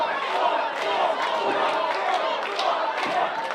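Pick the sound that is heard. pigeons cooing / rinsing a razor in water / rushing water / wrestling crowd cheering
wrestling crowd cheering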